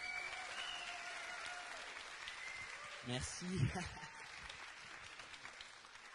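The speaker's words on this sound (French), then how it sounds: "je pense que vous pouvez les réapplaudir tous les deux" An indoor audience at a live show in a wax museum gives a swelling burst of applause and cheering in the middle, with a speaker's amplified voice before and after.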